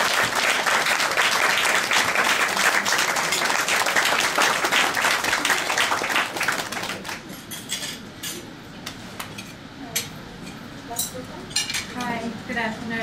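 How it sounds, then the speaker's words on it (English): Luncheon audience at a National Cancer Society event applauds loudly for Mrs. Heidi Marshall, dense steady clapping with a few clinks of cutlery and dishes, then thinning to scattered claps and murmuring voices. "Let's give her a round of applause."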